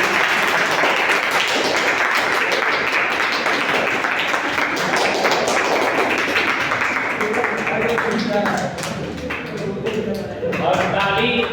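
Applause in a classroom, a burst of lively clapping from a group of students that carries on for several seconds, thins out briefly, then returns, with some talking mixed in.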